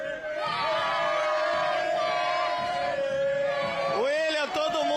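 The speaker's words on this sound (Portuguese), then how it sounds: "todo mundo tá louco da cabeça aqui no estádio Laranjeiras, ó. Tem bandeirão, a torcida cantando" Fluminense supporters singing together in Laranjeiras stadium, a loud sustained chant of many voices with a voice shouting over the crowd near the end.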